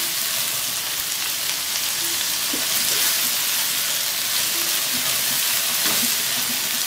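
Chopped tomatoes fry in a pan with ginger-garlic masala for a restaurant-style mixed vegetable curry, giving a continuous close sizzle and hiss that holds steady for several seconds with no voices.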